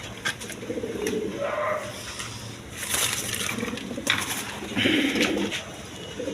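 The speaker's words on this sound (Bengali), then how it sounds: "এক পেয়ার অরিজিনাল লাহোরি কবুতর আছে" A pair of Lahori pigeons coo softly inside a large cage, with low murmuring calls and scattered rustling and tapping nearby.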